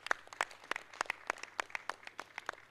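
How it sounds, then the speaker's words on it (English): Sparse clapping from a few people at an annual general meeting, faint with roughly regular, separated claps and a steady low hum underneath. "Again, a round of applause from all of us."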